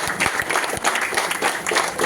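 An audience at a business talk bursts into loud, sustained applause, dense overlapping claps filling the whole moment without pause.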